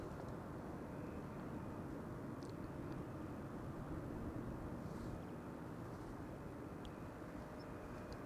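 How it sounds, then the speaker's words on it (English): A twin-jet Boeing Dreamliner airliner passes by near Amsterdam Schiphol Airport, its engines producing a steady, broad, rumbling roar that holds at a moderate level throughout with no talking. "The twin jet now having passed us by with the sun no longer in the vicinity does allow us to have a look at it."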